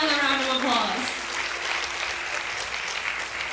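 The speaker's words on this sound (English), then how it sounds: "Please, give them another round of applause." An audience applauds after a long classical dance performance at an arangetram, dense clapping filling the room throughout, with a voice over the start before the applause carries on alone.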